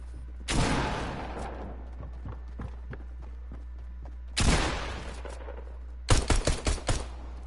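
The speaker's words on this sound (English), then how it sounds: "Took him down in 4 shots" Gunfire in the video game Fortnite: three separate bursts of shots, the last a rapid rattle of four or five close cracks, separated by quieter game noise.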